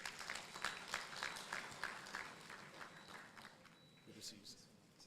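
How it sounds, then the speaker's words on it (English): Applause for an ambassador at a renewable energy conference, a moderate patter of clapping that gradually thins and fades, with some murmuring and movement at the end. "Round of applause for His Excellency."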